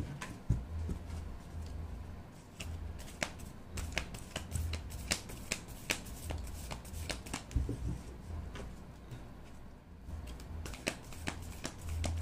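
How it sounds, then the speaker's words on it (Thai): Tarot cards being shuffled, a run of crisp papery riffles and taps repeating irregularly, soft and close with a low background hum and no talking. "อาจารย์ขออนุญาตสับไพ่เพื่อเปิดดวงให้กับชาวธาตุน้ำนะคะ"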